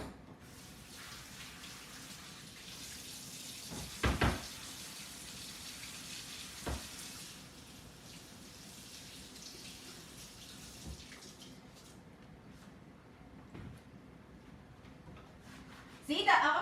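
Water runs steadily from a kitchen tap while food is rinsed during king crab salad prep, a soft, continuous flow with a few brief splashes and a person talking over it.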